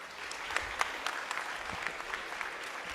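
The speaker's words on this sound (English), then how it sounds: "A big round of applause because we are the first institution to have taken up this tie-up." Audience at an institutional event applauds in a steady patter of clapping, fairly faint and distant, with a few sharper claps standing out.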